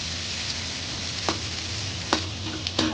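Onion fries in a pan with a steady sizzle, broken by a few sharp clinks and scrapes of stirring.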